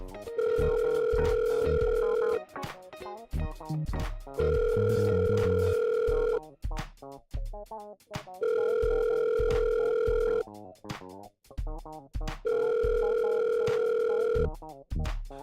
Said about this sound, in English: let's see if Nadine's got a second to pick up the phone